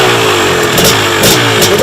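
A 2017 Husqvarna TC250 two-stroke motorcycle engine runs loud and close, holding a steady buzzing drone with a couple of sharper rev surges, no speech.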